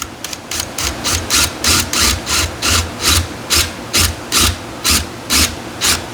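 A shallow hole, about an eighth of an inch deep, is drilled in wood, heard as a loud, close run of about a dozen evenly spaced rasping strokes.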